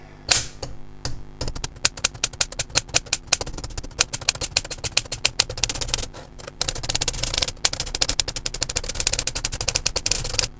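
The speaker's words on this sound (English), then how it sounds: "So this might take another half a page of typing" A Princess 300 typewriter being tested key by key, rapid loud clacking strikes in long irregular bursts with brief pauses and occasional heavier thumps, close and alone with no talking.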